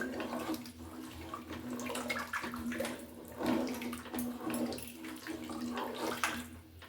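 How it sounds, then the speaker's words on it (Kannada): Water runs and splashes steadily while a small tempering pan is rinsed out over a pot of idli sambar, a continuous nearby gush with small spattering changes and no talking. "ಈ ಒಗ್ಗರಣೆ ಬಾಣಲಿ ಇತ್ತಲ್ಲ, ಅದಕ್ಕೂ ಕೂಡ ನೀರು ಹಾಕ್ಕೊಂಡು ತೊಳ್ಕೊಂಡು ಮಿಕ್ಸ್ ಮಾಡ್ಕೊಳ್ತಾ ಇದ್ದೀನಿ."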